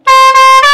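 A 1980 Mercedes truck in Ladakh blasts its horn at close range, a loud brassy multi-tone honk held steady for under a second with slight dips in pitch, alone without talk.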